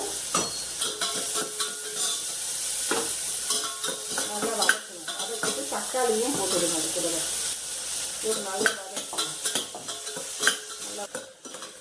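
Chopped onion, tomato and garlic cloves sauté in a pan for a spicy Tamil mochakotta kara kulambu, giving a steady sizzle with frequent scraping stirs and clinks throughout.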